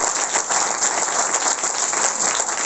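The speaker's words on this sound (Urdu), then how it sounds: "یسوع کے لیے بجائیں تو پتہ چلے کیا یسوع کے لیے تالیاں بجا رہے۔" Audience applause in Urdu-speaking sermon gathering, offered for Jesus: dense, steady clapping from many hands, close and loud, continuous throughout with no talking over it.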